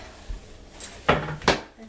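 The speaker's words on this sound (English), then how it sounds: "Right, I'm gonna get a chopping board" A chopping board pulled out of a kitchen cupboard, heard as a few short wooden knocks and clatters about a half second apart, fairly close with a quiet room behind.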